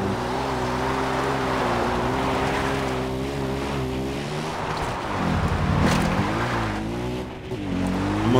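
Vehicle engine from the video game Far Cry 4, a steady droning hum with shifting pitch as it revs up and down, loud and continuous without speech.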